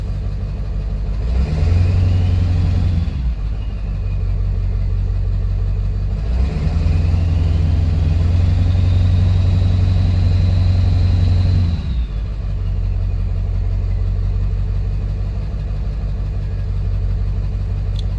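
A Ford 7.3 Powerstroke diesel truck engine runs loud and close with its muffler removed, a steady rumbling idle rising into two long revs with a faint turbo whistle above the roar.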